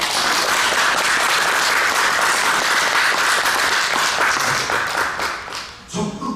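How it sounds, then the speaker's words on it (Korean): Applause from an audience at a talk, dense steady clapping filling the room for about five seconds before tapering off, with a few voices at the end. "일단 박수!"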